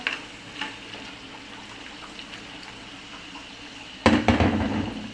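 Tilapia fish slid into a hot pan for a dopeyaza, a quiet kitchen hum suddenly breaking into a loud, close sizzle and crackle that keeps going to the end.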